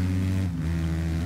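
A KTM motocross bike engine in the racing game MXGP3 drones loudly and steadily, with a brief dip as a gear changes before it climbs again.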